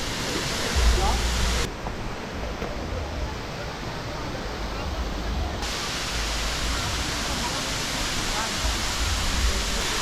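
Bomburu Ella waterfall in Sri Lanka roars as a dense, continuous rush of water, loud and broad, with occasional wind-like bumps and brief talking over it.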